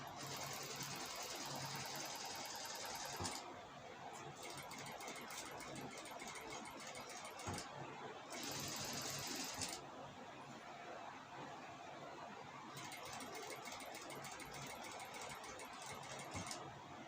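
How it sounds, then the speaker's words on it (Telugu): A sewing machine stitching the neck of a star-neck cross-cut blouse, running in long steady bursts with short pauses between them, close and fairly loud. "ఇప్పుడు దీన్ని స్టిచ్ చేసుకుందాం."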